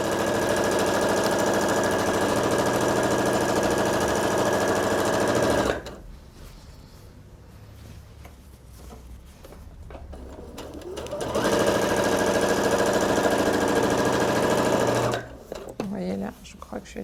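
A sewing machine stitches fabric along a seam to make gathers, running in two long steady loud whirring stretches separated by a quieter pause, with someone speaking French over it.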